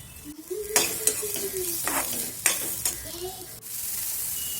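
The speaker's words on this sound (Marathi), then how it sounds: "थोडी लाल होईपर्यंत भाजून घ्यायची मटकी." Sprouted moth beans (matki) roast in a pan, stirred with sharp scraping strokes over a soft, steady sizzle, while a faint tonal whine rises and falls in the background.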